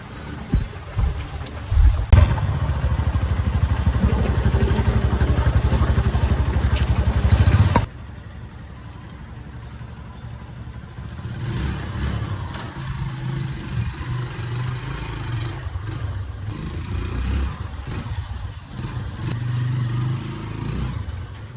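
A TMX Supremo motorcycle with a low-idle fault runs close by, a loud throaty burst of revving for several seconds that drops abruptly to a rougher, uneven idle with occasional blips.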